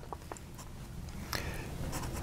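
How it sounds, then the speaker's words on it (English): A fountain pen with a 471 medium nib writing on paper, faint scratchy strokes in short bursts, close and quiet with no talk. "So we're going to write with this one"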